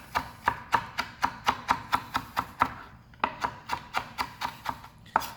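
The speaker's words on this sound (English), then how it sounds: "We're just gonna cut this like this" A knife chops food on a cutting board while preparing pollo saltado, giving about twenty crisp, evenly spaced strikes with a brief pause midway, close and clear.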